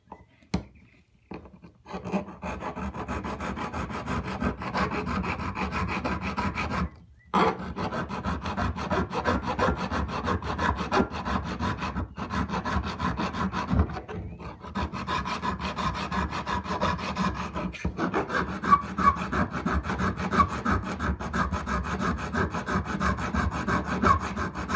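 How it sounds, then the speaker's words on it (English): Hand file rasping down a metal RM125/RM250 motorcycle brake lever, steady close scraping strokes running continuously for about 25 seconds with only a couple of brief pauses. "since I don't have a grinder, I'm going to use a file to remove that"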